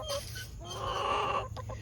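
Chickens cluck and murmur in their outdoor run, a steady stream of soft, close hen calls with a few sharper notes, and no talking.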